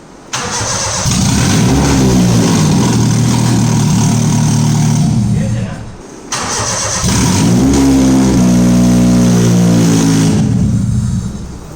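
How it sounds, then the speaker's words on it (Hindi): A 1995 Honda Civic engine cranks and catches, running loud and close with a steady mid-pitched drone, briefly cutting out before restarting and revving up again. "इंजन हम लोगों ने स्टार्ट कर लिया"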